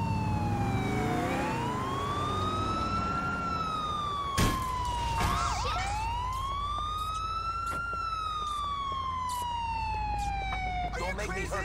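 An ambulance siren in the GTA IV video game wails in slow rising and falling sweeps, loud and continuous over a low drone of vehicle engine and traffic noise.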